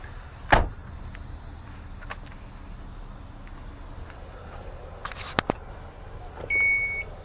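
Electric motors whir and clunk as the power sliding door of a 2016 Chrysler Town & Country minivan operates, with a few beeps, mechanical thuds and a latch catching near the end.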